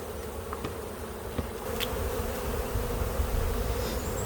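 Honey bees buzz steadily at an open beehive colony several years old, a dense close hum that swells slightly louder halfway through, with a few individual bees passing near.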